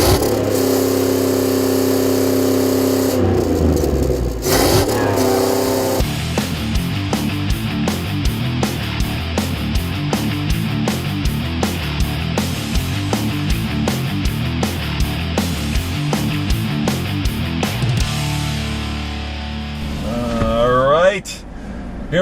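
A 2014 Chevy Silverado with the 6.2-liter Corvette V8 accelerates hard while towing just under 5,000 pounds, its engine revving up through steady pulses of gear-driven roar that build and hold for several seconds before easing off.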